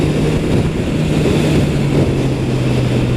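A Kawasaki H2 SX SE+ motorcycle overtakes on the road: a steady engine drone sits low beneath heavy, continuous wind rush that stays loud throughout.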